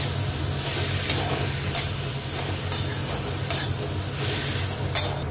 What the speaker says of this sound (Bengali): এবার কষাতে থাকি।